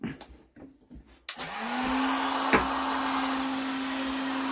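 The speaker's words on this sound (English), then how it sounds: "Get your old heat gun flat out. Heat the end up." Heat gun running flat out, switched on after a few soft handling knocks, then a steady loud whirring blower with a constant whine held to the end.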